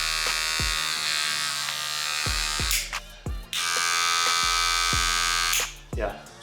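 Wahl Magic Clip cordless hair clipper running in a steady high buzz for two long stretches, close and clear, with speech heard during and between the runs.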